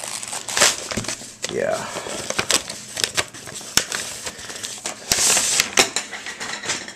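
A package wrapped in heavy layers of tape being unwrapped, with loud close crinkling, crumpling and sharp ripping tears in irregular bursts as a person talks briefly.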